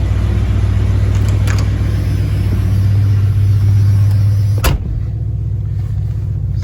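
A 1987 Ford Econoline E350 conversion van idles steadily after a cold start, a deep continuous engine rumble at close range, interrupted by a brief clunk partway through, likely a door, before the idle carries on.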